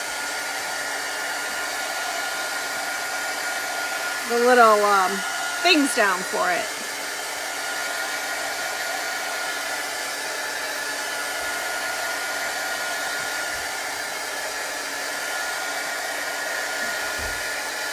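A hair dryer blows steadily and close by for the full length, drying ink on a Chalk Couture transfer, while a person briefly speaks over its constant whooshing roar.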